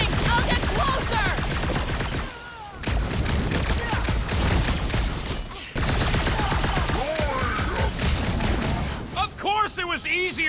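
Rapid gunfire crackles through a rooftop shootout in the Guardians of the Galaxy video game, dense bursts of shots running for several seconds with short pauses, under loud shouted voices and music.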